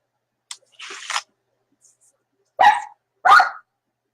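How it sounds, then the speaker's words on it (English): A dog barks in short, sharp bursts from indoors, two strong close barks following a couple of fainter noises, separated by silent gaps. "my dog's gone crazy again"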